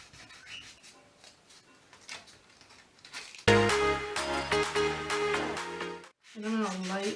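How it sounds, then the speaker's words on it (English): Light sanding by hand of chalk-painted wood furniture: soft, faint scratchy rubbing strokes at close range, followed midway by loud music. "the rest of the piece just a light sanding, just to smooth it out"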